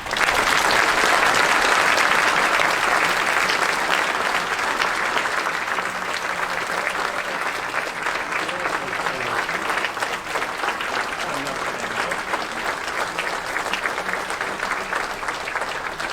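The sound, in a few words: audience applause for the Mississippi Golf Association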